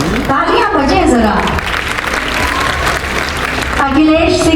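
Crowd applause for a government farmer-scheme beneficiary at a public ceremony, rising and holding for several seconds, with a loudspeaker voice talking over it at the start and end.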